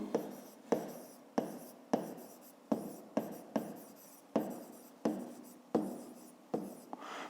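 Pen strokes on paper while a math exercise is written out, a close series of crisp scratchy strokes, each starting sharply and trailing off, in an irregular rhythm of about a dozen marks, no talking.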